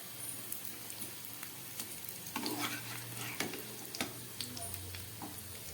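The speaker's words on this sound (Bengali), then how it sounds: "বাকিটুকুনি ভেজে নিচ্ছি।" Pakoras sizzle steadily in hot oil in a pan, with scattered crackles and light clicks of a utensil stirring through the fry, close and continuous with no talking.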